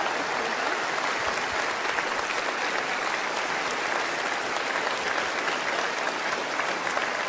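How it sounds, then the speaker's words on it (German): Steady applause from a large studio audience on a German Schlager television show, dense and continuous with no voices over it, holding an even level for several seconds. "Ihr Applaus."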